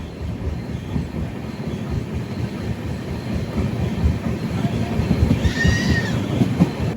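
The Netravati Express sleeper train rolls along the tracks between Shoranur and Thrissur with a loud, continuous rumble and rattle of wheels, plus a brief metallic squeal or whine near the end.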